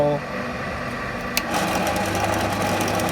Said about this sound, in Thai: หัวเจาะรูอีกฝั่งหนึ่งให้หัวน็อตเข้าไปได้นะครับ